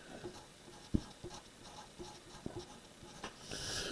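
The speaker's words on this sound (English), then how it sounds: "So we're going to write that real quick." Marker strokes on a whiteboard during a maths lesson on distance-time graphs, a quiet, close run of short squeaky scratches with small taps and pauses between them.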